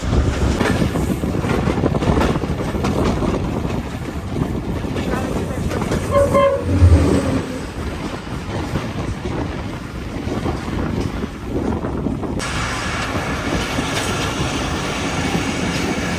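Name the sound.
Tezgam passenger train running on rails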